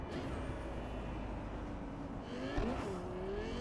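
A gullwing-door Quadra-style sports car in Cyberpunk 2077 drives fast through the Pacifica district, its engine a steady, loud drone with a rising whine and a brief surge near the end, without talk.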